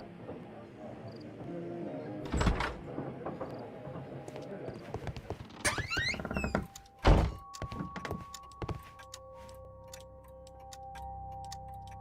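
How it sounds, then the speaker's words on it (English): Door lock being opened with a key in the Sherlock Holmes: Crimes and Punishments video game, with several sharp metallic clunks and thuds amid game ambience, followed by a steady tonal hum. "Mr. Butler's key matches the lock perfectly."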